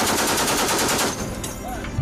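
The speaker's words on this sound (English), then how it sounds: "we got to shoot our 50 caliber machine guns" 50 caliber machine guns fired from a ship during a naval exercise, a rapid continuous burst of loud close shots that stops abruptly partway through, followed by ringing and faint background noise.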